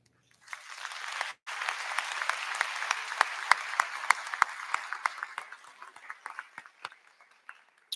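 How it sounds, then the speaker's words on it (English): An audience at a university convocation applauds, a dense sustained clapping that swells after a brief pause, then thins out into scattered individual claps toward the end. "can we just give one more round of applause for our sixth president, Dr. Cheryl Green?"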